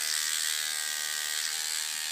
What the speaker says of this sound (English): I'm simply holding the toothbrush on the teeth and I'm letting the toothbrush do the work.